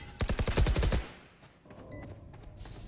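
A rapid burst of about nine close, loud gunshots from the tactical shooter game Valorant in a university championship match, then a quieter stretch with faint game sounds.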